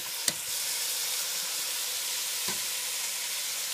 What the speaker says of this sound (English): And you want to brown it till it's good and brown